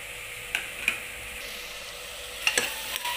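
Potatoes with green chillies, coriander and mint sautéing in a pan, a quiet steady sizzle with a few light spatula taps and scrapes.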